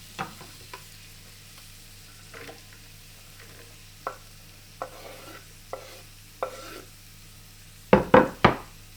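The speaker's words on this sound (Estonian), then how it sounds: "Praen hakkliha või oliivi või avokaadoõliga." Minced meat frying in olive or avocado oil for a homemade meat sauce, heard as a faint sizzle under irregular clacks of a utensil stirring the pan, ending in a few louder scraping knocks.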